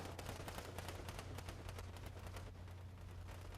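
Video game battle gunfire in a tournament, dense rapid bursts of shots and clatter that run continuously without a break and sit at a low, distant level.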